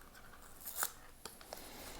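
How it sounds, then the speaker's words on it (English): A paper ribbon is torn off an oracle card deck, giving one brief crisp rip followed by two small snaps, close up and quiet in a still room. "I'll take this paper ribbon off. I might just have to tear it."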